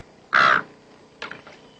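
A single loud, harsh caw from a voice imitating a crow, followed by a couple of fainter, rougher echoing calls.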